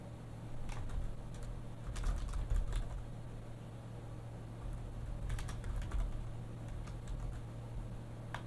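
Soft, steady typing on a computer keyboard, quick light key clicks over a low background hum, with a few louder flurries.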